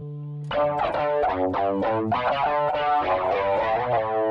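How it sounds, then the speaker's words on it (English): An electric guitar plays a short chord phrase through a chorus doubler effect, aiming for a particular song's tone, shimmering and doubled, clear and up close with no talking. "I like the sound of the chorus doubler"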